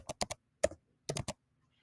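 Sparse typing on a computer keyboard in a quiet room, crisp close key clicks in short clusters of two or three strokes separated by brief pauses, with no talking.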